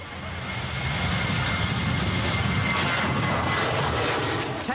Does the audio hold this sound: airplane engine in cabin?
yes